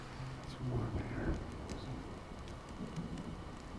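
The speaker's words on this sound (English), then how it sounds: "You're lucky to have found shelter from the rain." Steady rain pattering in a video game scene, a soft continuous wash of drops with low rumbles beneath, heard under a calm conversation between characters.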